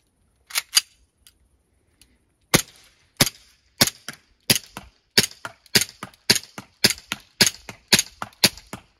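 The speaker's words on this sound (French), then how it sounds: "on va passer au test de tir avec le Colt" Airsoft Colt 1911 replica pistol firing a string of sharp, loud single shots, a few spaced at first and then a steady quick rhythm of about fifteen cracks, with no talking.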